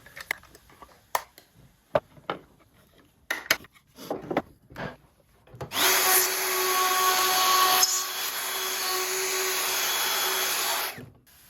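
A router cuts box joints in a wood shelf board on its second pass. Scattered clicks and knocks of setup give way to a steady, loud whine of the spinning cutter that holds for about five seconds before cutting off.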